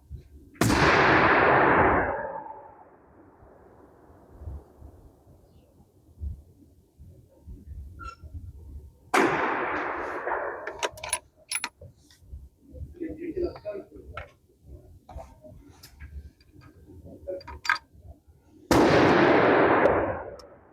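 Three loud, sharp 6.5 Creedmoor rifle shots with hand-loaded ammunition, spaced several seconds apart outdoors, each with a rolling echo tail, while someone talks quietly between shots.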